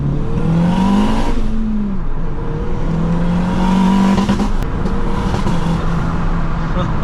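Car driving along a road, heard from inside as a steady engine drone whose pitch rises and falls with shifts in acceleration, with a loud even roar throughout.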